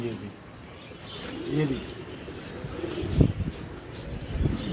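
Pigeons at a loft cooing in low, rolling, repeated calls, moderately close, under a voice speaking briefly with some handling and background noise.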